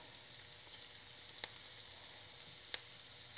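Mushrooms frying over medium-high heat in a hot pan for a steak and mushroom pie, a steady soft sizzle throughout with a couple of faint clicks, no voices.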